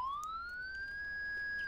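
A fire truck siren in the Farming Simulator 19 video game wails loudly and steadily, its tone sweeping upward and then holding high, with no talking.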